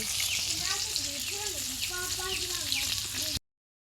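Saag greens frying in a pan: a steady, close sizzle that continues throughout while someone talks over it, then cuts off abruptly.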